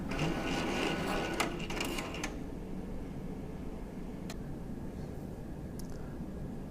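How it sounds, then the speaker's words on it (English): A card printer running a cleaning card through its cleaning cycle, heard as a steady mechanical whir with a few brief clicks and ticks, close and continuous with no talking. "When the cleaning card is finished, if the printer has locks, it will place the card into the reject tray."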